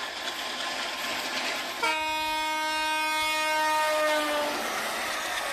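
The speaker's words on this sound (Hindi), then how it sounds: "अंधेरी सुरंग में दाखिल होती हुई बेपनाह शोर करती हुई रेलगाड़ी" A train horn blares loud and close as a train roars into a dark tunnel. Sustained, chord-like blasts last about three seconds over a dense rumbling wash of rail noise, then the horn fades, used as a dramatic reading sound effect.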